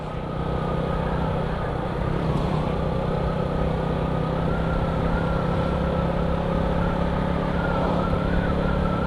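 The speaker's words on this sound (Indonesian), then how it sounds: "kalau kemana-mana pakai motor ini jangan harap wasus-wasus atau cepat" Steady drone of a Honda Supra motorcycle engine cruising in fourth gear at a relaxed pace, with a constant low hum and road wind; no talk.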